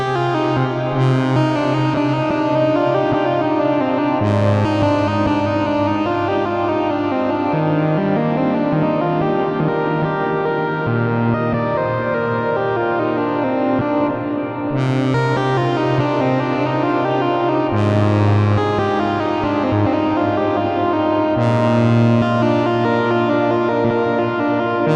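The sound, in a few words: Eurorack synth patch through Plateau reverb in VCV Rack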